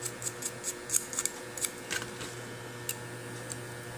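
A brush scrubbing the circuit board of a Samsung flip phone under repair, producing quick dry bristly scratches and small clicks in an irregular rhythm, close and crisp, with no talking.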